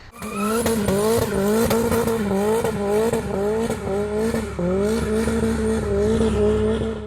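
A modified Saab 9000 2.3 turbo accelerating hard, its engine note climbing through repeated gear changes in a loud, continuous run with tire noise, close and with no voices.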